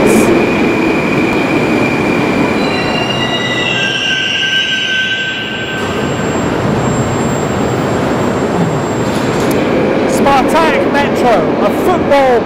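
A Moscow metro train runs through a football-themed station near Spartak Moscow's arena, rumbling loudly throughout while its wheels squeal with high, drawn-out screeches that shift in pitch.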